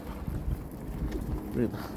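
A brief, low coo from a pet pigeon kept in an enclosure with its young rises near the end over a murky, rumbling background of soft noise and faint indistinct sounds.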